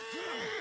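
A horse neighs in Mount & Blade II: Bannerlord during a battle, one short whinny with a wavering pitch, close and fairly loud against a steady background hum.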